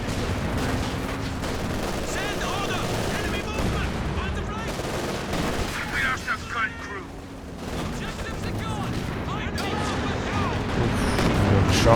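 Battlefield gunfire from a Company of Heroes 2 4v4 match in Lienne Forest, dense rattling machine-gun bursts mixed with booming impacts, continuous and building toward the end, with talk over it.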